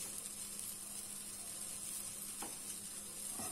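Vegetable fried rice sizzling in a pan, a steady close hiss with faint scraping from stirring and a couple of soft spoon knocks.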